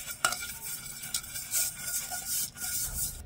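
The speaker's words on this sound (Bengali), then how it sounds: "এবারে বাটির চারদিকে তেলটা খুব ভালোভাবে লাগিয়ে নেব।" Oil is rubbed around the inside of a medium-sized bowl while preparing rice-flour pitha, giving soft, close scraping and smearing strokes with a few light knocks against the bowl.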